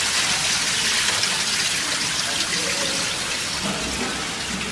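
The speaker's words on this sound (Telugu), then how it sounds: "ఇప్పుడు వాటర్ పంపి పసావులో పోసేసి" Water being poured off soaked rice into a pot for mutton dum biryani, a steady rushing splash close by that thins out slightly toward the end.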